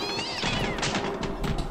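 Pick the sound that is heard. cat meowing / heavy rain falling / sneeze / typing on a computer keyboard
cat meowing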